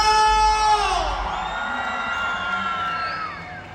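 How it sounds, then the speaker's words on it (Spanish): A large crowd at a Huapango dance contest in Hidalgo, Mexico yells and cheers loudly together, a sustained roar of voices with high whoops, fading slightly toward the end. "Aquí yo quiero escuchar un grito fuerte de toda la gente"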